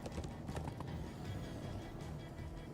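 Horses gallop in Minecraft: Story Mode, with rapid clip-clop hoofbeats running under a rumbling low background, fairly faint and continuous for a few seconds.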